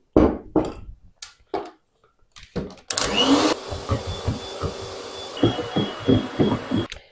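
An electric mixer whips gelatin for marshmallow, whirring loudly for a few seconds, preceded and followed by bursts of clattering and intermittent motor pulses.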